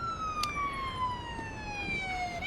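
Emergency siren from the Police Simulator: Patrol Officers video game, where an ambulance is at the scene of a road accident. A steady, wailing tone glides slowly downward, clear and continuous over a low traffic rumble with no talking.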